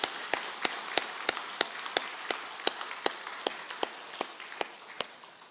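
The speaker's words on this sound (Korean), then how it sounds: "박수로 한번 감사의 박수를 해주시기 바랍니다." A church congregation claps at a Sunday worship service, a fairly quiet run of evenly spaced, crisp claps in a steady rhythm with no talking over it.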